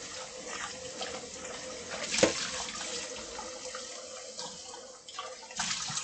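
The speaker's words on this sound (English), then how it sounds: "I'm going to rinse just in case there's dust." Water running steadily from a tap into a sink while rinsing away dust, a close continuous splashing rush with a brief louder gush, no talking.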